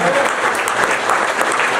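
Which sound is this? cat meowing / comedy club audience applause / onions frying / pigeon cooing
comedy club audience applause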